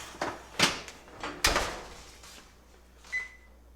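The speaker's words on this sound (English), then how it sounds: "So this is gonna go in the oven." An oven door is handled as a tray of venison jerky goes into a 225-degree oven: a few separate clunks and thumps over several seconds, fairly close, with a short faint tonal chirp near the end and no talking.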